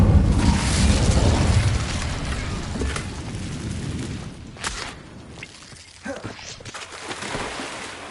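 An Incendio fire spell bursts with a heavy whooshing blast in Hogwarts Legacy, roaring loudest at the start then fading into scattered cracks and softer bursts.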